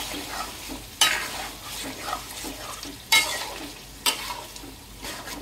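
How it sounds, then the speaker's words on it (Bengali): A spoon stirs chicken and milk in a pot for homemade biryani, giving soft scraping and bubbling with a few sharper clatters against the pot, close and moderately loud with no talking. "দুধটা দিয়ে আরেকটু নাড়াচাড়া করে নিব।"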